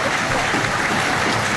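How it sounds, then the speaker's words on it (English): Home supporters applaud a substituted player during a football match at Glanford Park, Scunthorpe; a dense, steady wash of clapping fills the stands for the whole short stretch without a break. "Deck Howe gets a rapturous applause from the home fans here at Glanford Park."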